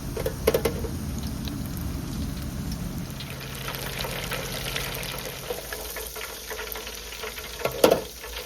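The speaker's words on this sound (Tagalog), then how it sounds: "Magpiprito tayo ng lumpia. Ayan, mainit ang ating mantika." Lumpia spring rolls frying in hot cooking oil outdoors, a steady broadband rain-like sizzle throughout with a couple of sharp pops and splatters near the start and end.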